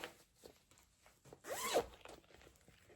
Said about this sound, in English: Sorry for the zippers.